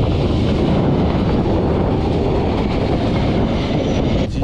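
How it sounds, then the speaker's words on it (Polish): A passing train heard during a cycling trip along the Baltic coast, a loud dense rumble with heavy low roar and rushing wind that stays constant throughout, with no speech. "Radosny pociąg."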